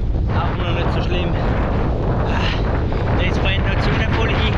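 Wind roars steadily into the microphone of a rider cycling on a sunny Swiss road tour, a loud, continuous rumbling buffet that fills the whole clip without letting up.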